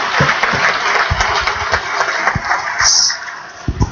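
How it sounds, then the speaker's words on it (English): Audience applause at a live university event, scattered claps that build into a steady patter across the room. "So let's give a grand applause to Deepa."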